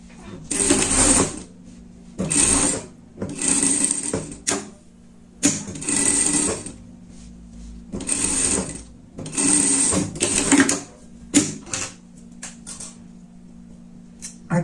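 A sewing machine stitches a seam through fabric for a pet pajama, running in about seven fast rattling bursts of roughly a second each with brief pauses between, loud and close.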